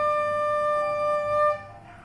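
A single sustained recorder note, re, fingered with one more right-hand finger added, rings clear and steady for about a second and a half and then cuts off into quiet.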